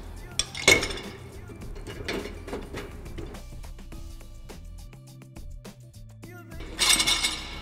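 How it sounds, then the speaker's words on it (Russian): The plate holder in a Gorenje GS54110W dishwasher basket is folded, giving sharp plastic clicks and rattling clatter, with a loud knock near the start and another burst of clattering at the end. "складываем держатель для тарелок"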